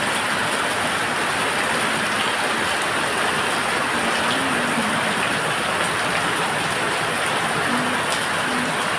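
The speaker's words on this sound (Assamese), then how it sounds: "বৰষুণ কেনেকৈ দিছে আপোনালোকক দেখুৱাইছে ইয়াত" Heavy rain pours down in Guwahati, a dense, constant hiss of water on surfaces with little wind, loud and unchanging from start to finish.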